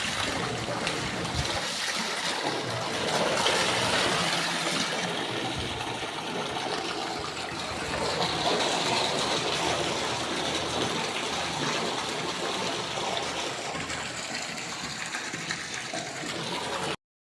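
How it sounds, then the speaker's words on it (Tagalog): Steady, loud rush of water pouring continuously from a repaired village water supply pipe, a broad hissing gush that holds at a constant level throughout with no voices. "Buong buo naman yung tubig na lumalabas"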